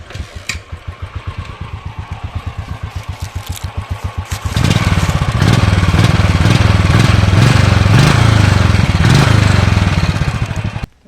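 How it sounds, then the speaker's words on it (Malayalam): Royal Enfield motorcycle with its stock exhaust idles in a steady thumping beat, then revs up into a louder, sustained drone close by before dropping away at the end. "അപ്പോൾ ഗൈസ് ഇതാണ് വണ്ടിയുടെ സ്റ്റോക്ക് സൗണ്ട്"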